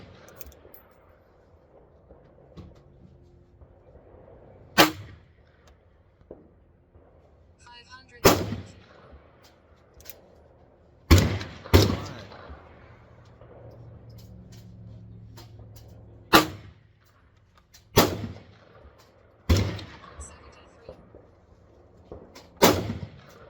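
.38 Special test loads fired from a Cattleman single-action revolver: about ten sharp, loud gunshots spaced irregularly a few seconds apart, each with a short echoing tail, with faint talk in between.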